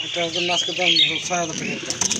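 A pink-beaked pigeon coos in a low, rolling, repeated call, close by and fairly loud, with soft wing rustles toward the end.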